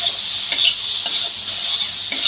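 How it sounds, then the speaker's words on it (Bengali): Rohu fish sizzles steadily in hot oil in a pan, with a few soft scraping stirs of a spatula breaking through the constant close frying hiss. "এখন আমি ভালো করে একটু নেড়ে চেড়ে একটু ভাজা ভাজা করে নিচ্ছি।"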